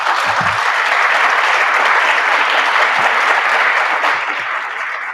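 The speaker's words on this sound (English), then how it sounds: "Let's give them a round of applause." A crowd at a Republican candidate forum for District 4 and 5 House and Senate races gives a loud, sustained round of applause, dense and even for about five seconds before tapering slightly.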